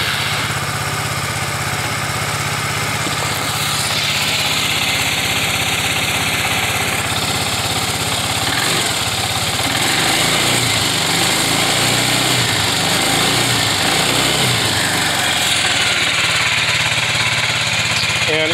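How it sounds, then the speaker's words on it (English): Suzuki Burgman AN400 scooter engine running at a steady idle, a continuous close buzzing drone with slight revving variations throughout and no talk. "let me start it up just to show you it does run when I do this"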